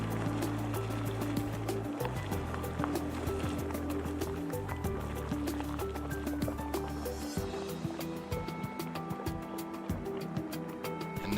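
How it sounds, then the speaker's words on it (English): Lakeshore Geyser on the Yellowstone Lake shoreline erupts with a steady, close sloshing and gurgling of churning water, a continuous splashing roar that holds through the whole stretch with no talking. "Lakeshore Geyser was not only on the shoreline but was active"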